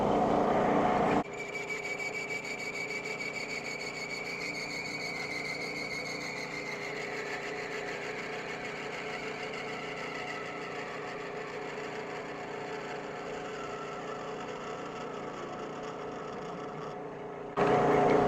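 A machine tool runs steadily on auto feed while it cuts brass, giving a continuous mechanical whir and hum with a faint high tone that holds level for the whole stretch.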